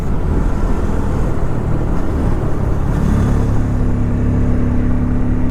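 A Bajaj Pulsar N250 motorcycle engine runs loud and close, its low exhaust note droning continuously with a rising, steadier tone partway through as revs build; no voices are present.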